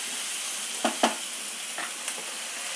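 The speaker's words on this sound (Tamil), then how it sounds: "இந்த சாம்பாருக்கு வெங்காயம் வதங்குது." Onions sauté in a pan for sambar, making a steady close hiss with a few soft stirring clicks and taps scattered through it. No voices are heard.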